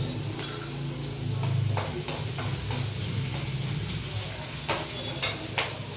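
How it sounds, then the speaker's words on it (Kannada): Chitranna ingredients, chilli among them, fry in oil in a pan, with a steady sizzle broken by stirring scrapes and light clinks of a utensil against the pot, close and continuous. "ಅದು ಸ್ವಲ್ಪ ಫ್ರೈ ಆಗಬೇಕು."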